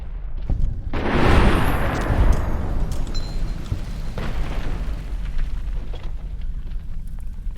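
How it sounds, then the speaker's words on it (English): Distant gunfire and explosions in the wasteland of Fallout: New Vegas, a heavy booming burst early on followed by a rumbling wash of scattered shots and crackles that carries on steadily throughout. "Somebody's shooting somewhere."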